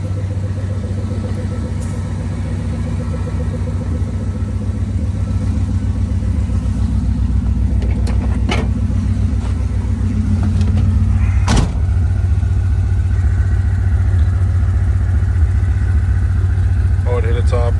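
A Plymouth Road Runner engine fitted with Aces EFI runs steadily outside a garage, a deep continuous rumble held at an even level throughout, with a sharp knock or door-like clatter partway through.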